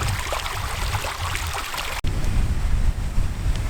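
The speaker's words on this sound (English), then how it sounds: "Back at the River Meavy." The River Meavy flowing on open Dartmoor moorland near Black Tor gives a loud, continuous rushing wash, heavily mixed with wind buffeting the microphone, with a brief dropout midway.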